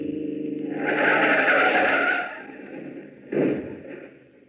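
A car in an old radio drama is forced off the road with a loud tyre screech lasting about a second. A shorter skid burst follows, then the sound fades under engine noise, with no voices.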